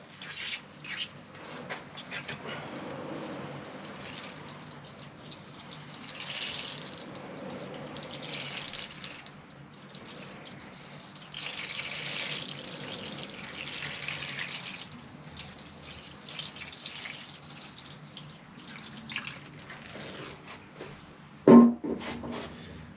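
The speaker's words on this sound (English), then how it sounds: "So here we come with the water to wash off the roots." Water poured from a watering can over the roots of a dawn redwood bonsai during repotting, a steady soft splashing and trickling that runs for most of the stretch, with a brief sharper clatter near the end.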